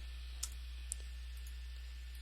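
A few faint, sharp clicks of a computer keyboard key being pressed, the F4 key, spaced apart over a low steady hum.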